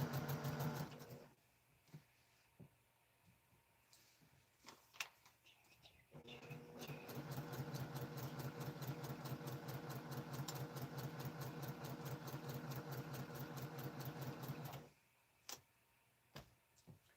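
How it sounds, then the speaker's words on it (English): A sewing machine stitches a foundation paper pieced tiger quilt block in batik fabric: a few short bursts, then a steady, fast, even run of needle strokes lasting about nine seconds before it stops, close and clear. "just gonna sew right off the line there"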